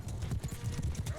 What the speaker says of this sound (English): Cavalry, charge.